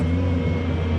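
Engine of a 1990 Mazda MX-5 Miata revving steadily through a rev-matched gear change, a loud, close, continuous drone with no voices present.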